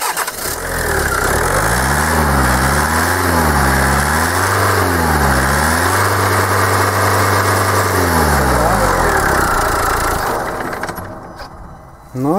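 Diesel engine with a knocking Bosch common rail injector valve, loud and close, starting up and running with rising and falling revs before settling, then cutting off near the end.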